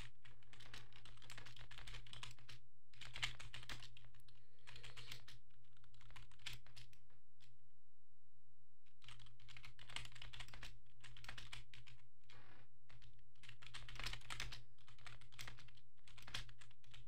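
Typing on a computer keyboard, a steady run of close clicking keystrokes in bursts with a short pause midway, over a low constant hum.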